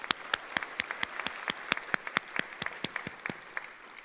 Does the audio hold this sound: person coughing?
no